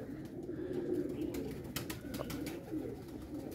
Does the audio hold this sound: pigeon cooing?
yes